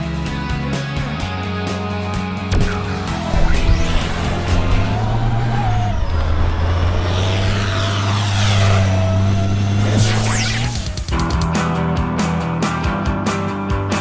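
A 2014 GMC Sierra Denali pickup with a 6.2L V8 driving near Austin, Texas, giving a steady engine drone and road roar with a rising whoosh midway, loud and continuous with no talk.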